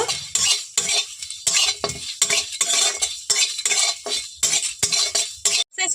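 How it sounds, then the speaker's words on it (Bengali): Cinnamon, cardamom and clove sizzle in a hot pan while a utensil scrapes and stirs in quick, rhythmic strokes, loud and close, with short pauses between bursts. "দিয়ে দিচ্ছি দারুচিনি দুটো এলাচ দিয়ে দিচ্ছি একটা লবঙ্গ সবগুলো এখন খুব ভালো করে ভেজে নেব"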